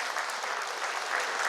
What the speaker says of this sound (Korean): 나오신 분들한테 박수 한번, 정말 우레마 같은 박수 한번 보내주세요.